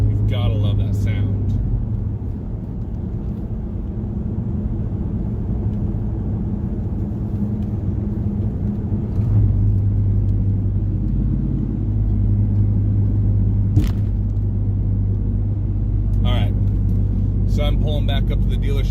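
A 1999 Chevrolet Camaro's engine rumbles steadily while driving, a loud, continuous low drone that swells slightly partway through, with brief clicks and rattles over the top.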